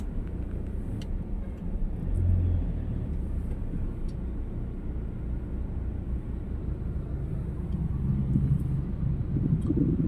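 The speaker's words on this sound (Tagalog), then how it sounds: "Daming truck." Heavy trucks and traffic rumbling past a moving car on a busy road near Katipunan, a steady low engine drone with no talk.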